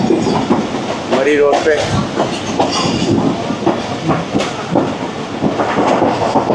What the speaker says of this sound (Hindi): रावलपिंडी स्टेशन पे अप्रोच बना ली है सर सैयद एक्सप्रेस ने